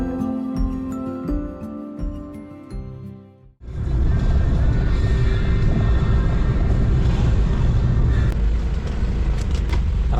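A Suzuki DA64W minivan on a road trip, a steady, loud engine and road rumble heard from inside after a short stretch of music that cuts off, continuing unbroken for several seconds.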